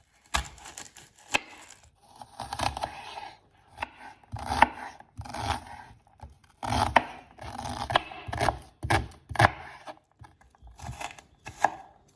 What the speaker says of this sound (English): Just finished dicing my yellow onion